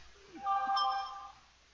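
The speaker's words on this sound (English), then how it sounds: "That was my phone." A mobile phone rings with a brief electronic tone, a cluster of steady stacked pitches swelling for about a second, fairly quiet and close, with no talk over it.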